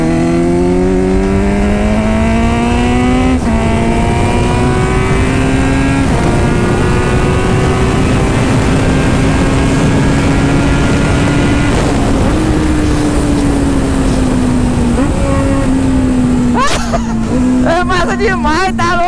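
Kawasaki Z900 motorcycle ridden fast on a race track, engine loud and continuous with pitch climbing through gears, dipping briefly between shifts, plus wind noise; a voice talks intermittently over it.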